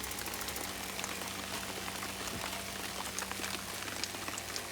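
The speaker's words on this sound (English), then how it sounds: "And it would start raining right now" Steady rain outdoors beside an off-grid methane-powered hot water setup, a dense even patter of drops close by, running continuously without any voices.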